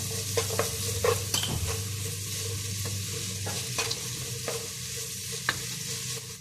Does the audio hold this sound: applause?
no